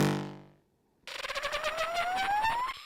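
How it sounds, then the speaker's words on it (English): A synthesized skid effect from music production software enters after a fading tone and a brief pause, a bright rising whine with fast rhythmic flutter that holds steady and loud, with no voices. "There's the skid sound."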